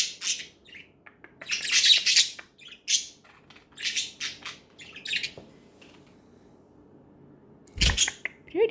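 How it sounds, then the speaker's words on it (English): Several pet budgies squawk and chirp in loud, close bursts, with scattered sharp calls separated by brief pauses. "Who are the pretty birds?"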